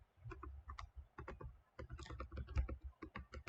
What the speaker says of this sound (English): So typing this out